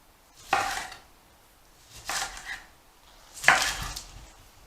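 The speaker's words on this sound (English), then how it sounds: "let me chop this onion up" A knife chops an onion on a board in three separate bursts of sharp strokes with quiet gaps between them, close and clear.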